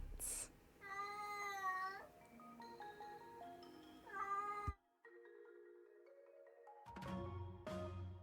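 Cats meow repeatedly in a Honkai: Star Rail special program: several drawn-out, wavering meows in close succession, with sustained tonal music filling the gaps and a brief pause near the middle.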